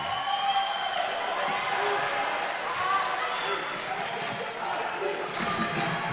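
A crowd at a World Cup third-place match between Switzerland and Singapore keeps up a steady roar of cheering and voices, loud and continuous, with a commentator speaking over it.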